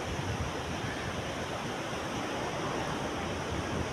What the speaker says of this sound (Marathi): हा छान आहे, हा समुद्र किनारा